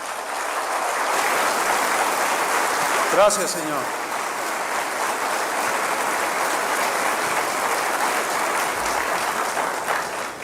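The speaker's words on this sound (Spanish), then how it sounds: "Dale un aplauso al Señor." A church congregation applauds in a steady, dense wash of clapping that fills the space throughout, with a voice briefly speaking over it near the start.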